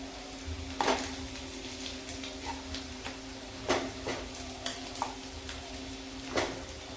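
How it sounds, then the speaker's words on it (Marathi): Gram flour roasting in a pan for egg masala, stirred with a spoon that knocks and scrapes the metal in a few sparse, irregular taps over a low steady background, close and quiet. "बेसन पीठ हे त्यामध्ये चांगले भाजून घेणार आहे।"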